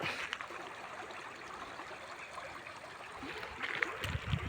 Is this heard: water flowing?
yes